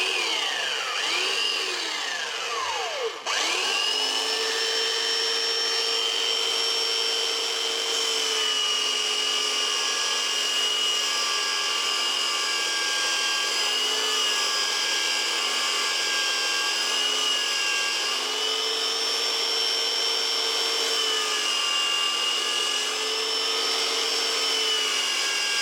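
A belt sander clamped upright as a bench sander starts up and spins up, then runs at a loud, steady motor whine while it sands a wooden corner, with no talk.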